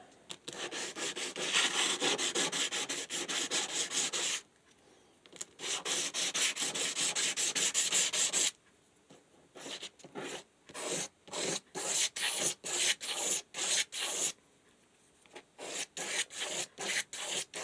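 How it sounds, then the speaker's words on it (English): Guitar body sanded by hand with 400 grit sandpaper, a close, steady rasping rub in long continuous passes that break into quicker short strokes in a rhythmic back-and-forth pattern. "That's some 400 grit here."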